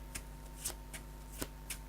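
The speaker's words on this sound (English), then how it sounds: "A lot of searching and shuffling in this deck." A deck of Magic: The Gathering cards is shuffled quietly at close range, giving a series of faint, soft riffling taps spaced about a beat apart over a low steady hum.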